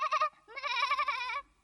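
A goat bleats in two close cries, the second longer and wavering, loud and near with no talk over it, from a retelling of a Grimm fairy tale about a goat that grazed its fill.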